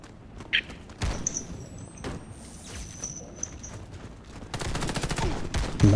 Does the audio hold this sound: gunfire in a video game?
yes